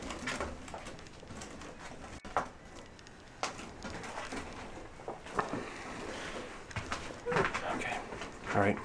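Inside an abandoned house, a pigeon coos in low repeated calls amid footsteps, creaks and room noise, while people talk throughout.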